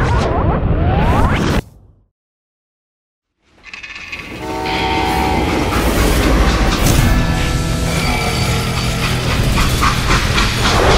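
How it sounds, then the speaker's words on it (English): A steam-era train in the Western video game Call of Juarez Gunslinger rumbles and clanks loudly after a short silent gap, its wheels grinding and a horn-like whistle tone sounding over the steady rolling noise. "How'd they stop this train in the first place?"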